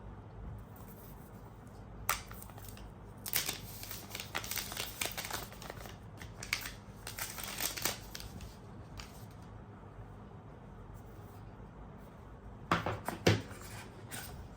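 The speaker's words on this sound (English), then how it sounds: "let me just unwrap this." Packaging of a white Xiaomi 15 phone box being unwrapped, with scattered crisp crinkles, snaps and rustles in bursts over a low background hum, close by and without talk.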